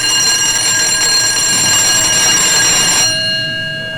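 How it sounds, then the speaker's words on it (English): A loud electric high school tardy bell rings continuously at the first period with a harsh metallic buzz for about three seconds, then stops and fades out. "the first period tardy bell rings"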